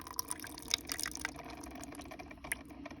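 Hot water streams from a Mr Iced Coffee machine into a cup holding a tea bag, a soft, steady trickling and splashing with a few brighter drips, faint and close, with no talking.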